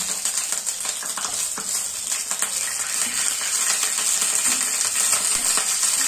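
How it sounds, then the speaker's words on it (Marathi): Jaggery and water cook into syrup in a pan, a dense, fairly loud bubbling sizzle overlaid with frequent metallic scrapes and clinks from stirring, steady throughout with no talk. "हे पहा आता आपण गुळाचा पाक तयार करून घेऊया।"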